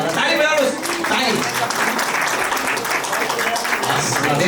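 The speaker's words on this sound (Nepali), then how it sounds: "ताली बजाउनुहोस्, ताली।" Wedding guests at a Gorkha marriage clap together in a brief burst of applause, dense and close, mixed with voices talking over it.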